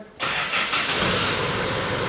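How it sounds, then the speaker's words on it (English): A diesel car engine cranks and catches after a brief quiet moment while glow plugs warm, then settles into a steady, close running hum. "We start the car and you should have a dash like that"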